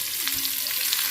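Curry leaves and tempering spices sizzle in hot oil in a pan, a loud continuous hiss with small crackling pops across the short stretch, alone without talk.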